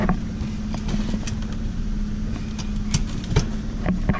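A Ford Mustang engine with an exhaust leak idles steadily and close by, its low rumble broken by scattered ticks and small puffs, with a few light clinks and no voices.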